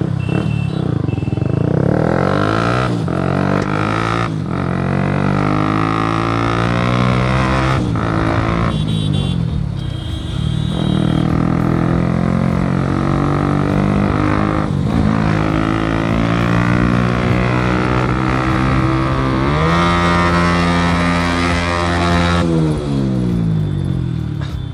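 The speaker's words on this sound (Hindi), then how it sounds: "पहले गाड़ी को करते हैं स्टार्ट और इसको रोड पर लगाते हैं" A motorcycle engine runs loud and close on a road, holding a steady idle broken by repeated revs that rise and fall in pitch.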